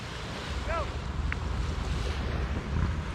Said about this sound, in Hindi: यहाँ इतना पीस है इस वक्त, देखो कुछ नहीं, सिर्फ पानी की आवाज़।